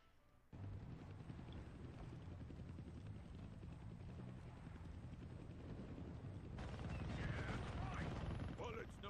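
In the Deadpool video game, a helicopter's rotor drones loudly and steadily throughout, with dense gunfire and explosions layered over it, growing heavier near the end.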